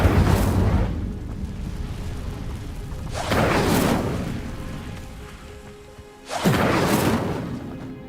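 The Incendio fire spell in Hogwarts Legacy plays out as three loud, roaring whooshes of flame, each a surging burst that swells and fades over about a second, over a constant rumbling background.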